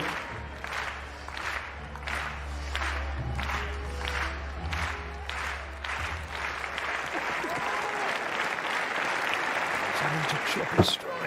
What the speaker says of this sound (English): Leading the rhythmic clapping for this man, Irving Konaté.